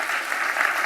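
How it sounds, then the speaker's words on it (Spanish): Steady applause from an audience for panelists at a business climate event in Chile, a dense wash of clapping that holds at an even level throughout with no voices on top. "quiero pedir un aplauso por nuestros panelistas."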